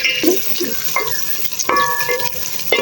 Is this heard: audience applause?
no